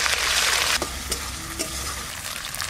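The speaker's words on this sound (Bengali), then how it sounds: "এবার জিরে বাটা দিচ্ছি, একটু নেড়ে নেড়ে ভালো করে" Cumin paste frying and being stirred in a pan for a jackfruit kalia, a steady loud sizzle broken by a few scraping strokes of the spoon.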